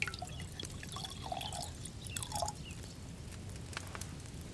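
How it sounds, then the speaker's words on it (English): Liquid poured out in Kingdom Come Deliverance 2, a quiet trickle with small splashes and drips over a few seconds, faint and alone. "Pour that out."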